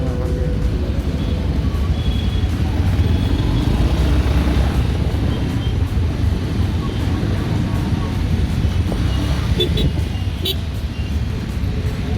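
Heavy road traffic crowds a busy market street at Narayanghat, a steady loud rumble of engines and vehicles with a constant noisy wash and no clear gaps.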